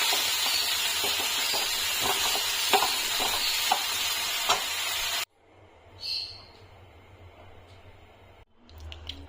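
Greens sizzle loudly in a hot pan with intermittent scraping stirs, then the sizzle cuts off to near quiet with a few faint clinks.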